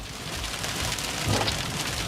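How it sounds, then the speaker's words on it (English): Large, golf-ball-sized hail pounds a car speeding along during a tornado chase, a steady, dense drumming on the vehicle with one slightly heavier hit partway through, heard close up. "We counted at least 9 bangs as large hail begins to hit my vehicle."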